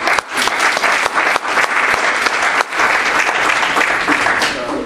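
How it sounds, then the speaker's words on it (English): Sustained applause from a large audience, loud and dense clapping throughout with brief dips in intensity. "These guys work really hard, and they deserve a big round of applause."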